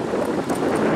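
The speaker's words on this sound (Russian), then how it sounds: "Вот здесь ветер, но он классный просто." Wind rushes past outdoors on a walk, a steady, close rumbling buffet over the microphone with no voices.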